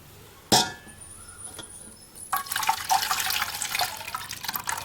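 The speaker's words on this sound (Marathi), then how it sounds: "आता मी हे गाळून घेते तुम्हाला मी गाळताना दाखवते" Water soaked for three days is strained from wheat semolina through a sieve for making kurdai. A sharp knock is followed by a faint trickle, then a louder continuous stream of splashing and dripping liquid.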